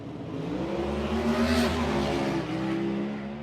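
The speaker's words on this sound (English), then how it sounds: "Suddenly, the car accelerated and shot across the intersection." Car accelerating and speeding off as an audio drama sound effect, the engine note rising in a loud revving whine that builds, peaks and then eases as it pulls away.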